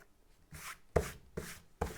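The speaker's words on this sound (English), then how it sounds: "So here I'm erasing these lines." A pencil eraser scrubs sketch lines off paper for a cartoon house drawing, heard as four short, close scratchy strokes in a loose rhythm with quiet pauses between them.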